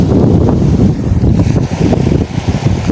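Strong, steady wind roars across the microphone with a low rumbling buffet, continuous throughout, while out fishing.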